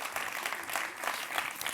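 Audience applause for award winners at a gala ceremony, a dense, even wash of many hands clapping, steady and moderately loud throughout with no voices over it.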